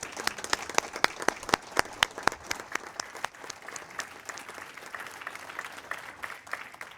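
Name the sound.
applause for retirees at committee meeting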